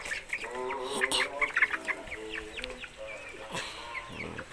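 Gatre Tan Chau bantam chickens, a small Southeast Asian breed, cluck and chatter close by in a busy run of overlapping calls, with a brief louder squawk near the end.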